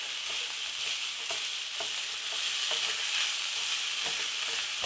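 A pound of spicy ground hot sausage fries in a pan with a continuous close sizzle, punctuated by repeated scraping taps of a utensil breaking up the meat, with no talk.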